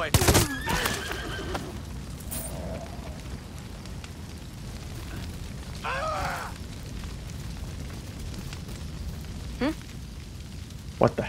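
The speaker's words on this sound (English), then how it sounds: "That man just got kicked in the head by a horse." A horse in Far Cry 6 whinnies sharply a few times amid game sound effects, thumps and hoof clatter, with bursts of noise at the start and end.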